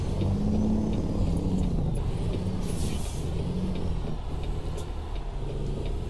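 Air brakes hiss on a logging truck in American Truck Simulator, a sharp burst of air cutting in over a steady, loud diesel rumble and road noise, with no talk.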